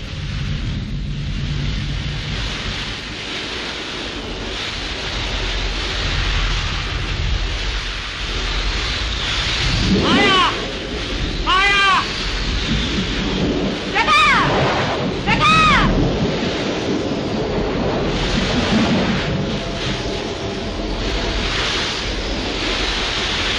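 A storm in a 1937 Hindi film, with a continuous roar of wind and rain and rumbles of thunder, plus several rising and falling howling tones of wind, loud and sustained.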